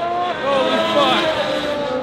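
A Formula 1 race car passes on the track, its loud high-pitched engine whine sweeping in pitch as it goes by, with crowd noise behind.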